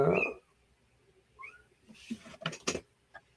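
Cats scuffling near a storm door on a summer day: a loud yowl opens, then scattered brief squeals and a burst of rustling, scrabbling noise from close by, with quiet gaps between.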